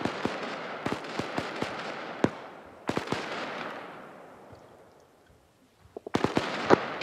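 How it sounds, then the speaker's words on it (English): Gunfire in the military video game ARMA 3 as figures shoot straight up into the air: sharp, distant cracks in irregular bursts, each trailing a long echo across an open street, with a brief lull before a rapid cluster of shots. "Seems like they're just shooting straight up."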